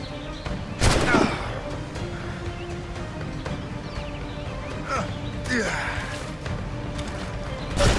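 Scattered gunshots ring out in Assassin's Creed Rogue, a few sharp cracks spaced irregularly over a busy game soundscape, while voices keep talking over the action.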